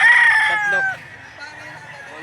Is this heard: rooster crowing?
yes